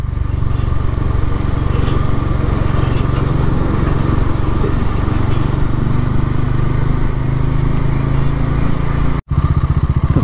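A superbike on a morning ride roars loud and continuous close by, the engine drone mixed with wind rush, broken by one brief dropout near the end.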